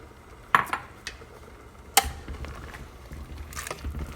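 Pigtails for Jamaican stew peas drop into a cooking pot, giving a few sharp clanks and knocks up close, the loudest near the start and at two seconds, followed by softer wet shuffling.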